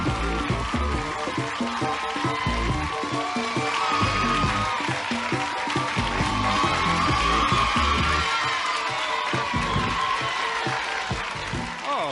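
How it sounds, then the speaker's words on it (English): Studio audience at the Starcade video arcade game show claps and yells continuously, a dense steady wash of applause with whoops and shouts, loud and close throughout. "That's nice to hear you clapping and yelling there."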